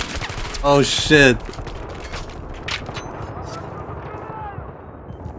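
Rapid automatic gunfire in Battlefield 3 on the Metro map, an MP7 submachine gun among loud overlapping bursts of battle fire, with a voice exclaiming briefly over the shooting.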